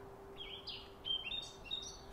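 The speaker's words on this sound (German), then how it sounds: "Vögel" Small birds chirp and tweet in quick, bright bursts over a steady low hum, in a blossoming garden setting with trees, humming bees and springs nearby; the calls sound moderately near, with a few louder notes toward the end.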